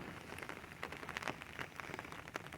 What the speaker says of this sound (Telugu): వర్షం ఫుల్ పడతా ఉంది